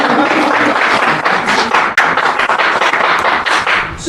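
Applause from an audience at a women's empowerment event, a steady wash of clapping hands lasting throughout, fairly close and loud with no talk over it.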